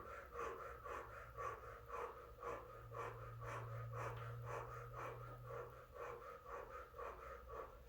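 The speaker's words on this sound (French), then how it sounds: "Je respire." A person breathes slowly and deeply in a steady rhythm of soft, close inhales and exhales during a Russian Systema breathing and tension-release exercise. The breathing is quiet and carries no speech.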